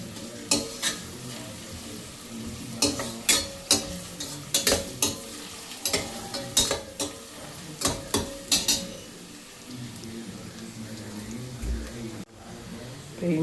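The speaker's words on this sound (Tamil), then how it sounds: "வெங்காயம் நல்லா வதங்கட்டும்." Onions sautéing in a pan for chicken biryani, a steady frying sizzle broken by repeated scraping stirs and clinks of a spoon against the pan, close up with no talk.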